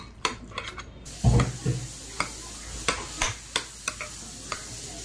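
Radish raita being stirred with salt in a bowl: a series of sharp, close scrapes and clinks of a spoon against the dish, spaced irregularly, with one heavier thud near the start.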